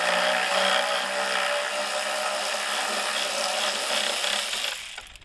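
Power driver spinning stainless steel screws out of an aluminum outboard motor housing; a close, continuous whirring buzz for about five seconds before winding down and stopping.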